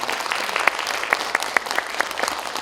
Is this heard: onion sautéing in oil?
no